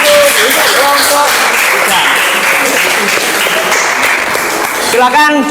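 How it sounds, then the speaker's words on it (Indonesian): A class applauding a group of students, brisk clapping from many hands filling the room, with voices talking over it. "Tepuk tangan untuk kelompok"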